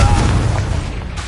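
Confringo fire spell blasting in Hogwarts Legacy: a loud, continuous booming roar of magical explosion filling the short moment, with no talk over it.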